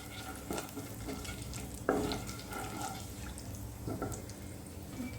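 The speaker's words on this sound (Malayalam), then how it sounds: "ജീരകം ഇട്ട് കൊടുക്കാം. ജീരകം ഒന്ന് ഫ്രൈ ആവട്ടെ." Cumin seeds frying in a pan, a faint low hiss with light crackles and a few sharp utensil knocks and scrapes, quiet and close with no one speaking.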